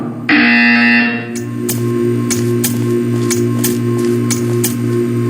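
A harsh electronic buzzer in the game Portal 2 sounds once for about a second, then gives way to a steady hum and regular clicking ticks.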